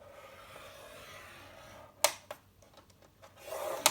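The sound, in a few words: scoring cardstock on a paper trimmer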